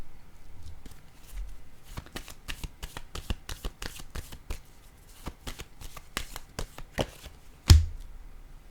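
Tarot cards shuffled by hand in a brisk run of crisp riffling slaps and flicks, close and fairly loud, ending with a sharper snap as a card is drawn and laid down.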